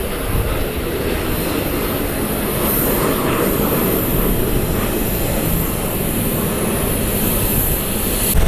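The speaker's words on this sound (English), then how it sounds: "Citation rolling out." A Cessna Citation jet rolls out on the runway at Columbus airport, a steady broad roar of engine noise with a high whine on top, sustained and moderately distant, no voices.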